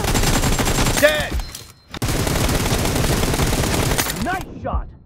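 Gunfire in the mobile shooter PUBG Mobile, a dense, loud burst of rapid shots that breaks off, then resumes in another sustained volley before trailing away.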